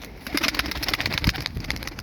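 Pigeons kept by a fancier coo in a loft, with low throaty calls repeating close and fairly loud over a soft rustling background.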